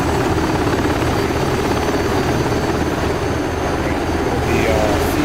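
A SeaHawk helicopter in the DCS World flight simulator drones loudly and steadily with a constant rotor and turbine roar that fills the whole stretch.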